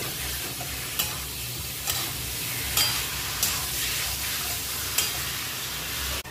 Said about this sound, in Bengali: এখন দিয়ে দেবো সেই মাংসটা। মশলার সঙ্গে মাংসটা কষিয়ে নিয়েছি।